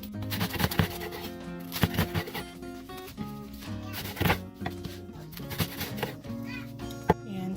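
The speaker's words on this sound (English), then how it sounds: "I'm going to cut it with a serrated bread knife" A serrated bread knife saws through a chicken quesadilla in a series of short, crisp cutting strokes, set against a background of faint voices and other household sounds.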